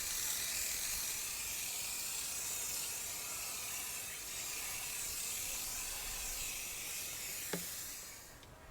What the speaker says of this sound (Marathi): त्याच्यावरती आपण हा स्टिकविन स्प्रे अट्रॅक्टनचा स्प्रे घ्यायचा आहे